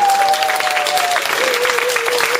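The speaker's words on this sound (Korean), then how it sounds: "교수님께 큰 감사의 박수를 드리겠습니다." Applause thanks the lecturer at the end of a special talk, a thick, steady wash of clapping from a seated audience with a faint high tone running underneath.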